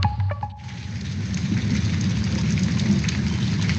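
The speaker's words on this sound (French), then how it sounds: "3 jours de pluie, de grêle, de tempête, Paris prend l'eau." Steady rain and storm noise used as a radio drama sound effect, a dense continuous wash of falling rain with a low rumble beneath, loud and close, preceded by a brief knock at the start and no talk.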